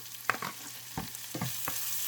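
Bacon dropped into a pan of browned garlic and butter sizzles and crackles close up, with a few sharp stirring scrapes over a steady frying hiss and no talking.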